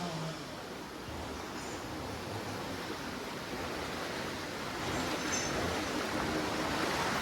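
Floodwater rushes in a continuous, even roar with no breaks during a severe flood, swelling slightly louder toward the end.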